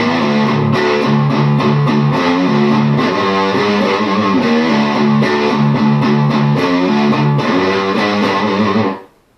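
Loud distorted electric guitar plays a breakdown riff in a rock song lesson, with rhythmic palm-muted chugs and single notes on the low strings, repeating steadily before cutting off abruptly at the end.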